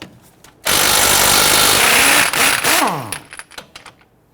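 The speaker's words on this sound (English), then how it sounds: "I'm going to go ahead and use our 17mm deep socket to go ahead and remove this." A power tool spins a 17mm deep socket to remove the pinch bolt nut on a 2011-2015 Kia Sorento front lower ball joint, one loud sustained whir of about two seconds that winds down into a few rattling taps.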